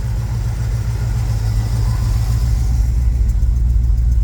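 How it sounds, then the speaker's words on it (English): A 1966 Chevrolet C10 shortbed pickup idles with turn-down exhaust exiting under the cab, giving a steady, loud, deep rumble with a slightly aggressive tone, heard alone and close. "So it's got a kind of exhaust, a little bit of aggressive sound. But not super loud."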